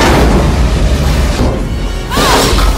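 Loud, booming explosion from a disaster film, a dense low rumble filling the whole clip, with a second burst of crashing noise near the end.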